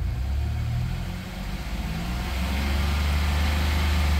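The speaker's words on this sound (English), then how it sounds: "Let's give it a rev here." A 1990 Dodge Grand Caravan engine is revved up, a close, steady mid-pitched rumble that dips slightly and then climbs and holds, with no talking over it.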